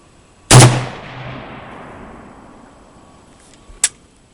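A single sharp Galil SAR rifle shot at a target range rings out loud and close, its echo decaying over a few seconds, followed by a fainter distant report.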